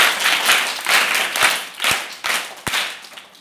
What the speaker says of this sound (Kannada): ಅವ್ರಿಗೆ ಇನ್ನೊಂದು ಚಪ್ಪಾಳೆ